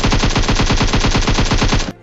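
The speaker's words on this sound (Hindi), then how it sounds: "उसने मेरे को फायर किया था" Rapid automatic gunfire in the video game PUBG, a loud, evenly spaced burst of roughly twenty close shots that cuts off abruptly at the end.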